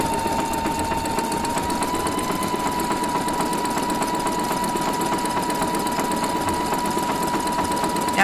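A sewing machine fitted with a wide wing needle stitches decorative embellishment, giving a steady, continuous mechanical whir and rapid needle clatter at close range that runs unbroken throughout.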